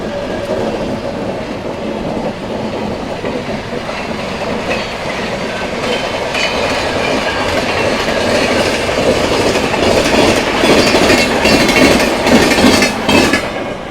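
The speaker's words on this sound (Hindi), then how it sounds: "तो भाई एपी एक्सप्रेस आ गई।" The AP Sampark Kranti Express, running from Hazrat Nizamuddin to Tirupati, rolls past at close range with continuous loud rumble and rhythmic wheel clatter that swells toward the end.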